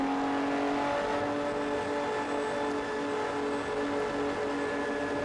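Engines of two Porsche 911 race cars drone together on a track in a steady, loud, continuous blend of tones. No talking is heard.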